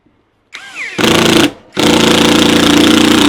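A Fanttik REX K2 APEX mini impact driver sinks a regular wood screw. A short whir leads into loud, dense rattling hammer bursts, a brief pause, then a longer sustained burst of rapid impacts up close.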